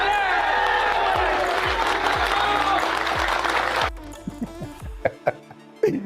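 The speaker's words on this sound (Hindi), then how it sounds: "अभी हम क्लेप करेंगे अपने लिए, मगर वो क्लेपिंग ऐसे हो कि हम चैंपियन हो।" A crowd claps for itself in loud, dense applause for about four seconds, then stops abruptly, leaving a few scattered low thumps and near silence.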